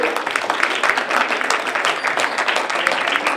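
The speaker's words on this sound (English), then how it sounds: "order all audience to give a big clap for the excellent presentation" Audience applause after an excellent presentation during a question and answer session, a dense steady patter of many hands clapping close by for the whole stretch.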